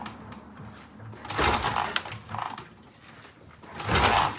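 An engine cranking over after refuelling, with a rough whirring, ratcheting mechanical churn in several uneven bursts, loud and close, with no voices over it.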